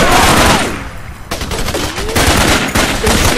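Loud, close bursts of automatic gunfire crackle in a jungle firefight in the video game Raven Squad: Operation Hidden Dagger. A rapid volley is followed by a short lull, then more sharp overlapping shots.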